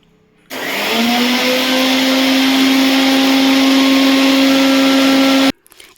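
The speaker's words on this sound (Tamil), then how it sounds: "இப்போ மிக்சி ஜாரில் போட்டு அரைச்சிருவோம்" A mixer grinder spins up and grinds curry leaves in its jar, a loud steady whir with a strong motor hum that holds for about five seconds and then cuts off abruptly.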